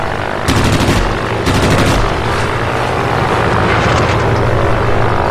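Propeller aircraft engines drone steadily in World of Warplanes while two loud bursts of rapid machine gun fire rattle over them, followed by quieter scattered gunfire in the background.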